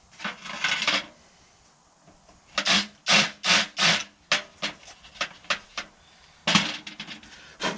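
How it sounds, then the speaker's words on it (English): A series of short, rough grinding bursts from a larger drill bit deburring a metal edge, uneven in length with brief pauses between, close and fairly loud. "Just deburr that again. Give it a little whiz with a bigger drill"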